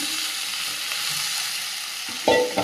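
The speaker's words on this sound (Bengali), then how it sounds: "একদম হালকা তেল দিয়েছি এখানে ভেজে রাখা বরবটিগুলো দিয়ে দেবো" Previously fried yardlong beans go into a pan with a little hot oil, giving a steady low sizzle that ends in a couple of loud, close clunks as they drop in.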